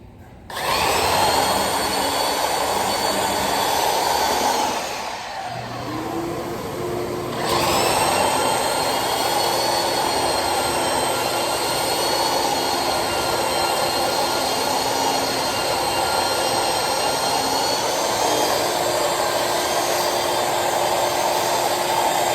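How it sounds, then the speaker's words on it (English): Belt sander sanding a wooden table top, a loud steady whine that starts, cuts out briefly for a couple of seconds, then resumes and runs on continuously, with no talking. "So you can watch me belt sand for a minute"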